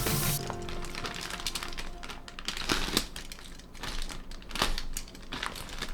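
A utility knife slices open a package of LEGO parts, producing close crinkling plastic, scraping and sharp clicking snaps in an irregular rhythm.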